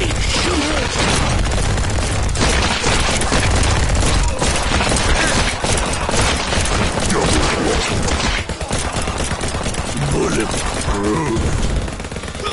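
Dense, nonstop gunfire and booms fill the VR game Bulletproof, loud overlapping shots with a player talking over the action.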